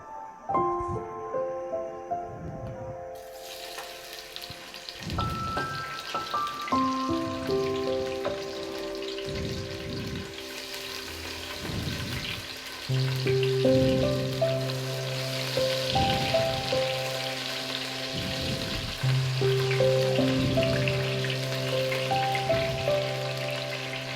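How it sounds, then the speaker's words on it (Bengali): Onions fry in hot oil for a chicken biryani, producing a steady, rain-like sizzle that starts abruptly and continues under tonal background music. "এখন আমি দিয়ে দেবো কিছু পেঁয়াজ"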